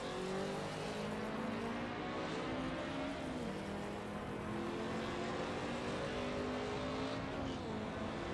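Several race cars from a racing video game at Road Atlanta, among them a BMW, drone steadily as their engine tones rise and fall in close pursuit, a continuous loud roar with no talking.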